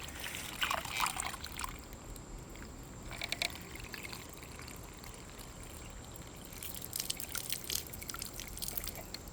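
Water trickles and splashes softly as it is poured into a plastic bag used to water a plant. The pour comes in small irregular bursts over a steady background hiss.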